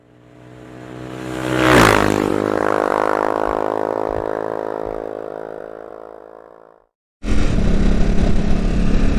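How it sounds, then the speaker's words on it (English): A Ducati motorcycle's engine swells to a loud, close roar, holds a steady drone, then fades out, followed after a brief gap by a harsh rush of wind noise while riding. "let's hop on the bike, head to my Ducati dealer, and explain myself on the way"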